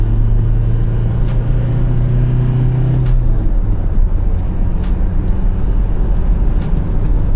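The engine of a Toyota Innova Crysta drones loudly and continuously from inside the cabin as it accelerates through the gears, and its pitch shifts noticeably partway through.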